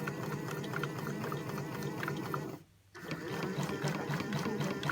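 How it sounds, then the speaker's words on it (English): A toy washing machine runs its full spin cycle with a steady whirring hum, cutting out briefly midway before starting again, with faint talk nearby. "This one is the full spin."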